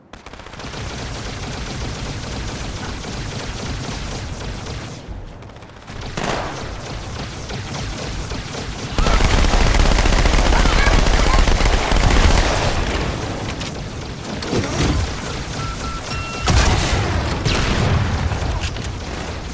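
Turret gunfire in the video game Halo 2, with loud continuous automatic bursts and booming blasts that form a dense, roaring barrage and swell louder partway through.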